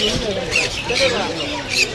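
Many birds for sale squawk and chirp sharply in overlapping bursts at Crawford Market, Mumbai, a busy chorus close by, with people talking underneath.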